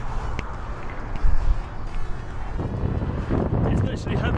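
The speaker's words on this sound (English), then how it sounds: "we were told that the winds could be gusting up to 40 miles an hour" Strong gusting wind buffets the microphone outdoors during a 10k road race near tall towers, a steady low roar that swells into heavier gusts partway through, with gusts reported up to 40 miles an hour.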